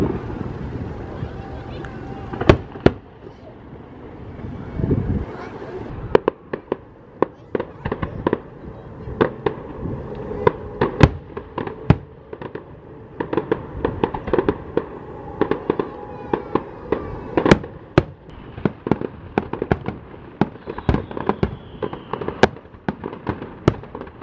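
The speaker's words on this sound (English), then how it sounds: "Wow, these fireworks were amazing." A fireworks display bursts repeatedly for over twenty seconds, with sharp loud cracks at irregular intervals over a constant rumble and wind buffeting the microphone.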